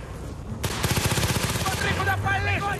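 Rapid gunfire in Battlefield Bad Company 2 on Xbox 360: a loud, steady burst of closely spaced automatic shots, followed by a tonal whine and chatter from the game's sounds.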